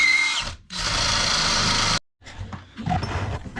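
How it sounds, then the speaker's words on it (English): A power drill bores a hole in metal parts for a chopper motorcycle build, two loud whirring bursts with a brief stop between them, then quieter handling noises. "Get back to you once we get this hole drilled."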